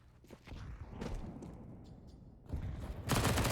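Distant SMG fire and movement in a CS:GO match on Mirage, faint scattered shots and footstep-like clatter building into louder, closer bursts near the end.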